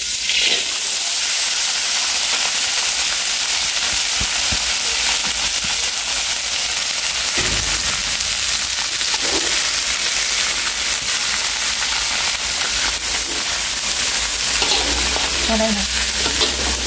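Corn stir-fries with dried shrimp in a hot pan, giving a loud, continuous sizzle and hiss with occasional scraping stirs throughout and no talking.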